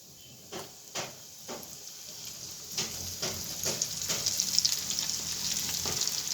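Onions frying in oil for Egyptian koshari, a soft sizzle that swells into a dense, steady crackle as more onion goes into the pan, with a few clunks of stirring, close and alone.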